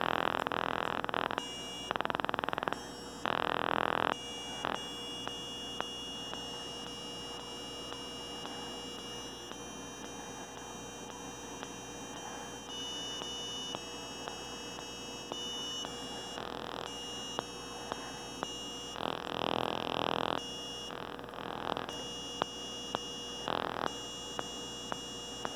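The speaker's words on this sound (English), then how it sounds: "Here is the ultrasonic sensor music programming." An ultrasonic sensor drives electronic music, steady buzzing tones and sustained beeps with abrupt on-off changes in pitch, faint and continuous throughout.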